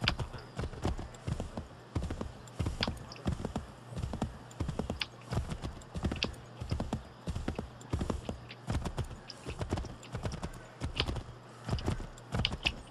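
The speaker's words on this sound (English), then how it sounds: "horse is so slow." Video game horse hooves in Assassin's Creed III: steady, rhythmic hoofbeats clip-clop along at a galloping pace, evenly repeating throughout at moderate volume with a faint background hiss.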